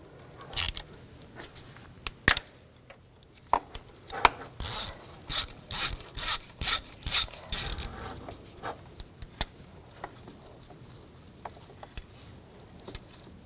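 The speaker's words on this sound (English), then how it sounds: "Using a T30 socket, we're going to take the screw out." A ratchet turning a T30 socket to back out the camshaft position sensor screw on a 2009-2017 Volkswagen Tiguan 2.0L four-cylinder, a run of about ten rhythmic ratcheting bursts amid quieter scattered tool clicks and handling noise.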